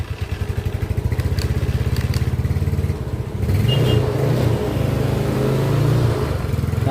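A Yamaha Mio Sporty motorcycle engine idles close up with a rapid pulsing chug, then the throttle is opened partway through and the engine note rises and wavers, loud and steady.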